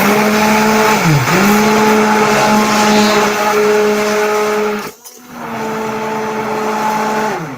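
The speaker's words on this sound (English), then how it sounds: "I'm gonna take my stick blender and I'm gonna just soften the rest of the" A stick blender mixes cold process soap batter with a steady motor hum, its pitch dipping briefly under load, then cutting off for a moment before whirring again, close and loud with no talk.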